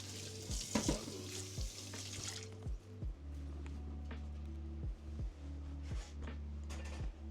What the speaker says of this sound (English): Always rinse the grater after you use it so it doesn't dry on like cement